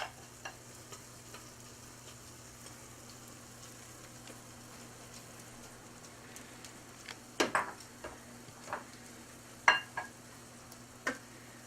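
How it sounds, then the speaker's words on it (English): Onions and peppers go back into a pan on top of cooking eggs, giving a faint, steady sizzle with a few sharp clicks and taps from a utensil near the end. "Now I'm going to return these onions and peppers to the pan right on top of those eggs."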